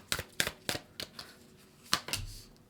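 Tarot cards are shuffled in quick crisp riffles, a run of about six sharp papery bursts close to the listener, ending with a soft tap as the deck settles.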